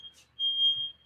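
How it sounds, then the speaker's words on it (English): A smoke alarm beeps once in a thin, steady high tone during cooking at Christmas, sounding for about half a second, close and clear over a quiet room. "It's just a fire alarm."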